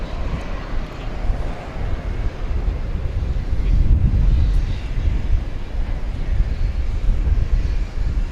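Low rumbling roar of a passenger airliner, Flight 2351 from Mexico City, at DFW Airport at night, swelling around the middle and staying broad, blended with gusty wind noise.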